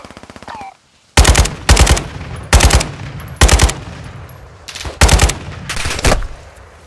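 Loud automatic gunfire from Call of Duty Modern Warfare II rips out in about eight short, heavy bursts with brief gaps between them. A faint radio-like voice is heard just before the first burst.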